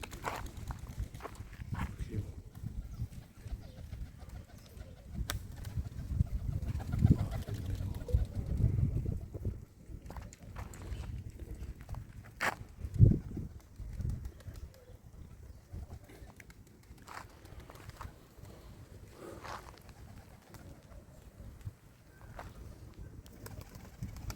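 A young pigeon with damaged wings takes off, its wings clapping in a few sharp bursts over a low outdoor rumble with some scuffing.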